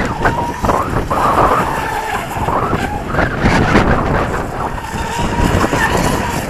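A fast electric RC boat with an outboard motor whines and surges while turning on open water in a strong breeze, with hull splashing and heavy wind buffeting the microphone and no speech.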